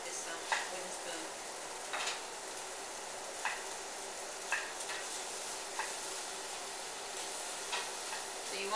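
A wooden spoon breaks up and stirs pieces of tofu frying in a pan, making soft periodic scrapes and clacks roughly every second and a half over a steady faint sizzle.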